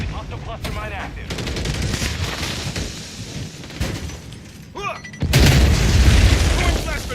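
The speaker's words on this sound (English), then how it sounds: "Taking fire." Video game combat with heavy gunfire and booming explosions, loud and chaotic, punctuated by shattering blasts and a big detonation near the end, under game voices calling out.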